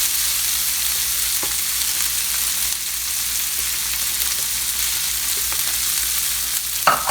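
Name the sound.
rice frying with shrimp in skillet pan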